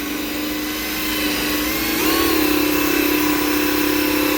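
A machine polisher buffs the plastic headlight lens of a 1973-1977 Monte Carlo, a steady close whine that rises in pitch and load partway through.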